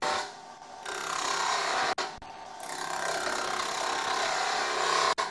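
A wood lathe spinning timber held in a Robert Sorby wobble chuck while a tool cuts, giving a steady loud rushing, scraping hiss with a couple of brief interruptions and a slight swell in intensity, no voices.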